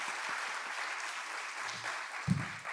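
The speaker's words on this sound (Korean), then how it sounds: "우리 주님께 영광의 박수 올려드립시다" Congregation applauding in a church during a Friday evening worship service, a steady wash of many hands clapping throughout, fairly distant, with a brief low thump near the end.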